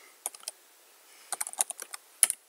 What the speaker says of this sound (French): Je pense que mon lien, je vais le taper ici déjà.